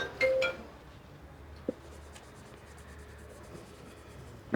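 Chalk or marker writing on a board during a database lecture, faint scratchy strokes scattered over a few seconds with a couple of short taps, quiet against room background.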